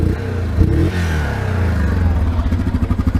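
A Yamaha Grizzly 700cc quad engine runs close and loud. It holds a steady low rumble, then settles into a rhythmic, pulsing idle toward the end, with no voices.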